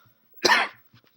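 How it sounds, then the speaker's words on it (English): A single short cough, close and fairly soft, in an otherwise quiet room. "Sorry for the coughing."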